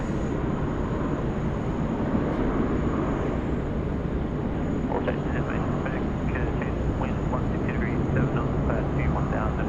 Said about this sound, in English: nice 717, just dropping it in very calmly there on runway 16 right